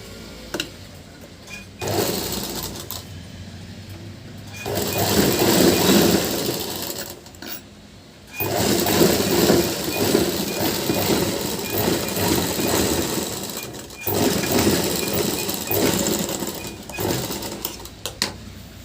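A sewing machine stitches a blouse in long steady runs, a close droning whir that starts, pauses and resumes, with short quiet gaps between seams.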